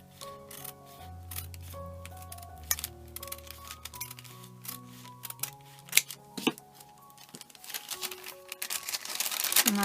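Scissors snip through a plastic bag for a faux leather vintage journal kit, a run of sharp, close clicks and crinkles over a low steady hum, growing busier and louder toward the end.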